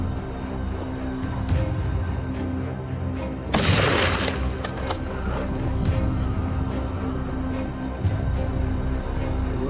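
Gunshots during an outdoor wild boar hunt, one sharp loud crack standing out amid a busy rumbling background with scattered fainter reports, some near and some distant.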